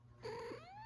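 A pet cat named Serana gives a single short meow with a rising, drawn-out tone, close and fairly soft indoors.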